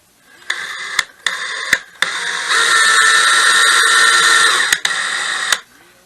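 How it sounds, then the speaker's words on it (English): A power drill drives mounting screws into a Precision Quilting Tools hanging quilt rack, close and fairly loud, in several short whirring bursts that give way to one long steady run, with clicks between the bursts. "Ready to put these mounting screws in."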